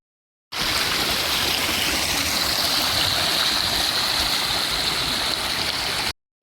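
Steady rushing flow of water at Katara, Qatar, a broad continuous hiss like a stream or fountain, close and loud throughout with no talk.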